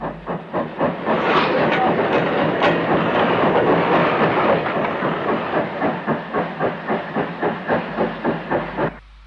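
Ex-North Staffordshire 0-6-2 tank locomotive, built 1929 at Stoke, running steadily with a loud, continuous rhythmic chuff and hiss, the regular beats growing more distinct toward the end before cutting off.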